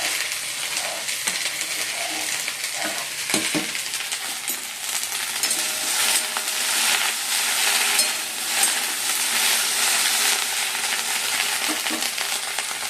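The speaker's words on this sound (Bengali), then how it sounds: "আমার কাঁচা ভাজা বসে দিয়েছি" Raw vegetables frying and being stirred in a pan on a home kitchen stove, giving a loud, continuous hiss and sizzle with occasional scraping and clinks of utensils nearby.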